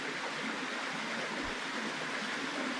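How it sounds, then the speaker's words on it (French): Broad, steady rush of water from a 16-metre overhanging waterfall, a constant even hiss filling the scene at moderate distance with no break or change. "à la cascade de 16 mètres en surplomb dont je parlais tout à l'heure"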